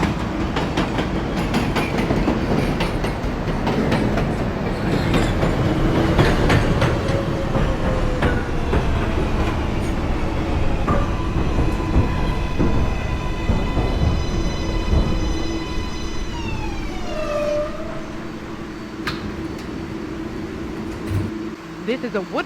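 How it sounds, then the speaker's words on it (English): A Woodlawn-bound 4 train in the Hmmsim 2 subway simulator at 176th Street, its rolling wheels and rail clatter loud up close, then rising electric motor whines and a chime as it slows, with an announcement voice speaking over it. "This is a Woodlawn bound 4 train."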